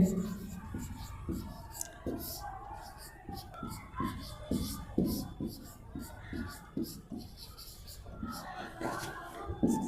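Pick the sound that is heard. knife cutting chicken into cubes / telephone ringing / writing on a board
writing on a board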